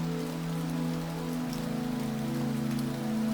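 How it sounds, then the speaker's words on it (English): Rain falling on a custom safari tent at a mountain camp in the rainy season, a steady soft patter with drips from the eaves over a low constant hum. "raindrops falling gently from the eaves"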